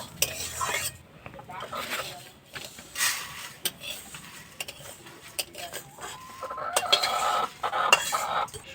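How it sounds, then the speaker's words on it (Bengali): Rice grains, dry-roasted until reddish, are tipped and scraped out of a metal cooking pan, giving quiet rattling, scraping and clinking in irregular bursts that grow busier toward the end. "এবার আমি চালটা ঢেলে নেব"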